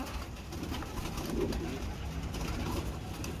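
Pigeons of the teddy breed coo in a loft setup, a soft low burbling repeated steadily against a busy background of bird noise, close by and moderate in level.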